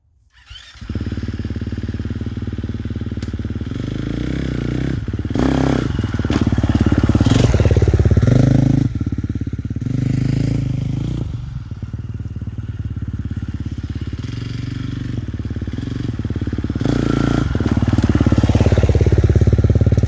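A dirt motorcycle in second gear rides over logs, its engine droning steadily with surges of throttle and dull thumps and clatter as the tires climb and drop, loud and close throughout.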